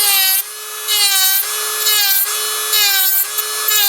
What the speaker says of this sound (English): you're trying to really just debulk the nail